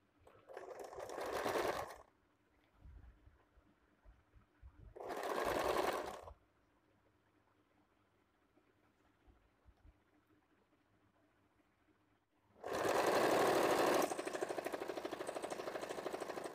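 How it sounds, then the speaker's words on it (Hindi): A sewing machine stitches the side seams of a girls' Peter Pan collar shirt, running in three loud bursts of about a second each, with quiet handling noise between them and a longer run at the end. "अभी देखिए यहाँ पे मोहरी पे सिलाई देना है।"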